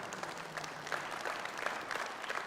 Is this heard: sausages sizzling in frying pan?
no